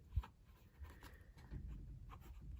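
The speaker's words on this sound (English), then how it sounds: "So let's just do these quick writing samples." Pilot V Pen Erasable scratching across paper for a short writing sample, faint and close, with small scratchy strokes and a brief tap near the start, no talking.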